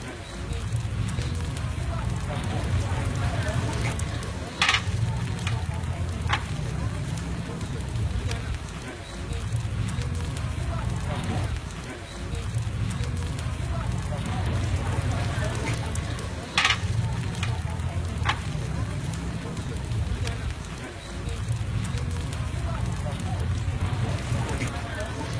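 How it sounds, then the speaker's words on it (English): Oyster omelet with egg and vegetables frying in a pan, a steady sizzle and crackle that swells and eases in waves, with a few sharp clinks of a utensil along the way. "And fry it."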